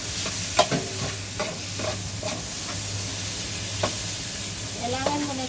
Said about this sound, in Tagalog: Kailangan mo na siyang i-gisa para kasi sa pag-fry mamaya mabilis lang.